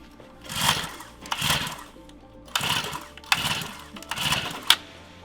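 A dirt bike engine is pull-started in sub-30-degree cold in Utah and fails to catch: about six rough, rasping pull bursts in an uneven rhythm, each ending in a brief sputter, close and fairly loud.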